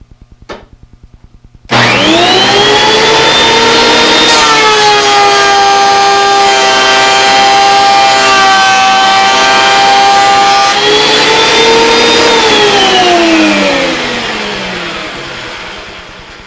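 A Dewalt DW734 benchtop planer runs without dust collection and is loud and close, starting suddenly with a high whine that shifts in pitch as it planes a board, then slowly winds down near the end.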